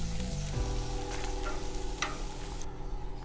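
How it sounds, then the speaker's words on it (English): Food hits a hot outdoor grill and sizzles steadily, a dense crackling hiss with a few small pops and clicks, close and continuous with no talking. "So now we're gonna go back to the grill and put these on."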